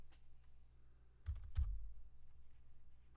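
A few soft keystrokes on a computer keyboard, faint and sparse clicks over a low hum, with no one talking.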